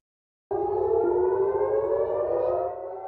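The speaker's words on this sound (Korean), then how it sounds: "이스라엘 최대 항구 하이파에 공습 사이렌이 울려 퍼지고" An air raid siren wails in the port of Haifa, Israel, during a missile attack, starting abruptly and holding a loud, steady rising tone for nearly three seconds before easing slightly.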